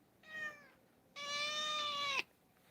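A pet cat named Midnight meows twice nearby in a quiet room, a short call followed by a longer, louder drawn-out one.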